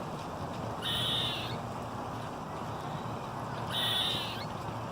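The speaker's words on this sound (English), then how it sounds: "I didn't even know squirrels made noise" A squirrel outdoors gives two short, bird-like calls a few seconds apart, moderately faint over a soft background hiss, with no talking.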